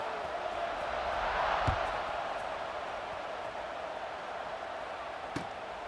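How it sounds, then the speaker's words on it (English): Stadium crowd noise in EA Sports College Football 26, a steady roaring wash of fans during a kickoff that swells slightly near the start, with a couple of sharp thuds cutting through. "this crowd is feeling themselves after that last drive"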